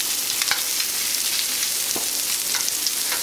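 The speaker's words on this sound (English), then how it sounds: "I'm gonna put my bacon again." Bacon sizzles in a pan with butter and oil, a dense, steady crackle with scattered sharper pops and occasional stirring, close and loud without any talk.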